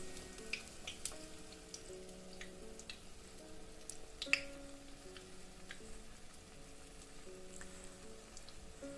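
Chicken pieces for General Tso's chicken fry gently in hot oil, giving a soft, steady stream of scattered small pops and ticks with one sharper crackle partway through. No voices.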